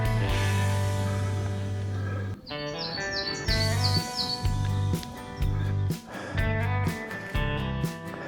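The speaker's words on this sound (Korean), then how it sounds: "오늘 콘서트라도 열렸는지 새소리가 유난히 맑고 연두빛 하늘과 너무나도 잘 어울립니다" Clear birdsong in a spring mountain forest, with bright chirps and short repeated calls rising above a steady tonal music bed that carries on throughout.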